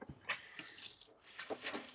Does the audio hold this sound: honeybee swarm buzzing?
no